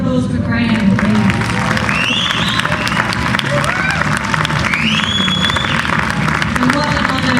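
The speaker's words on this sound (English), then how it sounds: "Another round of applause for Graham, please." Festival crowd applauding a speaker inside a temple tent at Glastonbury, continuous loud clapping with cheers and crowd babble throughout, dense and close.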